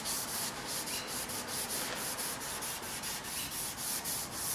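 A lathe bed being sanded by hand with 120-grit sandpaper gives a steady, close, rhythmic scratchy rubbing, stroke after stroke, with no talking.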